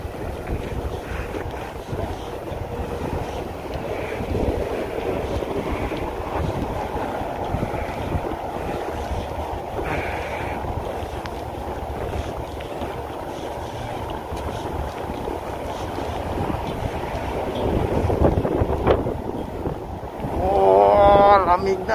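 Continuous wind noise roaring over the microphone outdoors on a cold Canadian day, with watery churning in the background and gusts growing stronger near the end.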